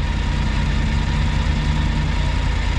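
Large truck on a mountain road, its deep, steady engine drone heard alone at moderate distance.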